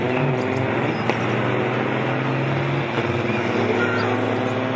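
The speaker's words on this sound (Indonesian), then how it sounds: "yang ini ada truk tronton, teman-teman" A heavy tronton truck rumbles past on a road, its engine drone steady and loud throughout, with a faint squeal of brakes or air hiss mixed into dense traffic noise.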